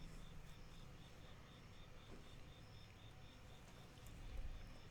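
A cricket chirps indoors in a steady repeating pulse of short high trills, faint against a low room hum, with a soft thump near the end.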